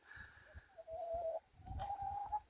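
Soft, intermittent clucking from chickens nearby, with brief tonal calls rising over scattered low pecking and shuffling noises.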